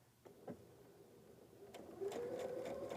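A sewing machine with a regular presser foot stitches quilt fabric, starting after a couple of faint taps and then running in a steady, close, continuous whir for the last second.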